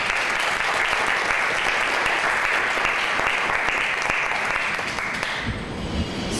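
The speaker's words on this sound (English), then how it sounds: "So a big round of applause." Audience applause fills the room at a community talk on domestic violence, loud and sustained clapping from many people that thins out and fades near the end.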